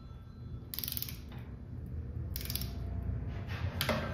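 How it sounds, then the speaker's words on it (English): Torque wrench on engine bolts of a replacement engine in a Ram ProMaster van, making a few short bursts of bright ratcheting clicks close by against a faint, steady background. "this is a torque wrench and it has a little sort of a click feature where when it reaches the desired tension, it"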